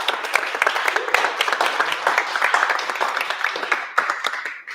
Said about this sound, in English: how about another round of applause for Ian?